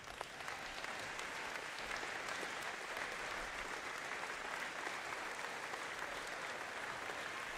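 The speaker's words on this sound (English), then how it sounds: "Let's give them a round of applause." Steady, dense applause from a large audience at a 2024 commencement ceremony fills the whole stretch at an even level, with no voices rising above it.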